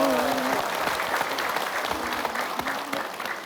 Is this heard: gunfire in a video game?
no